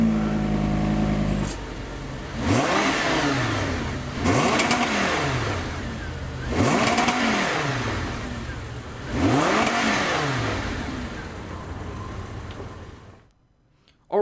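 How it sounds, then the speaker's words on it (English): A 2015 Audi R8 V10 Plus starts up and is revved four times, each loud rise and fall of the engine close by, with idle between blips before it cuts off near the end. "But let's start up the engine here for a second."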